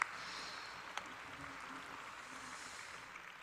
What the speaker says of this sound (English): So let us give true parents and true mother a big round of applause for this amazing blessing.